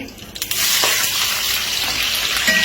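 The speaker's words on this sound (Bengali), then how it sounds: "এখানে হচ্ছে আমি বাইন মাছের জন্য মশলাগুলো কষিয়ে নিলাম" Spices frying in hot oil for an eel fish curry, a bright crackling sizzle that starts after a few soft knocks and carries on steadily, with faint scraping strokes mixed in.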